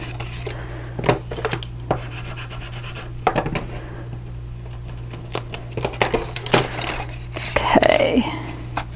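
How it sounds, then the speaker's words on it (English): Paper being burnished along a score line and a backing strip peeled off while assembling a papercraft Easter bunny treat box: soft close rubbing and scraping strokes, a few sharp crinkles, and a longer peeling rasp near the end over a steady low hum. "we're just going to burnish and just remove the backing strip."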